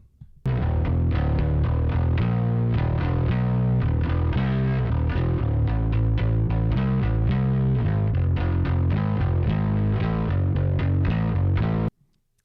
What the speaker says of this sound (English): then we can hear the bass in isolation that I recorded